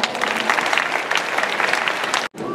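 Audience at a send-off ceremony for Tokyo inter-high school athletics team members breaks into hearty applause, a close, dense round of clapping that cuts out abruptly for an instant near the end.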